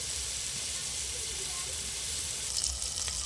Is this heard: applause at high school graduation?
no